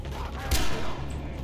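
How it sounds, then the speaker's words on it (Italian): Pistol gunfire in the video game Far Cry 3: a single loud, sharp shot cracks out midway through a steady bed of in-game ambience. "Mi piace sparare con sta pistola,"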